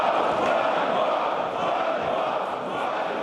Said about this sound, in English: The opposition booing the parliament's refusal to allow Tymoshenko to get medical treatment abroad.